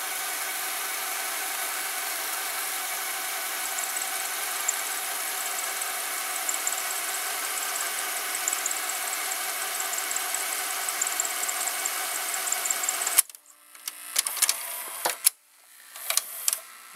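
An old Sony SLV-701HF VCR from about 1990 runs its tape mechanism with a steady, close mechanical whir and hum, then stops abruptly and gives a few clicks and clunks near the end.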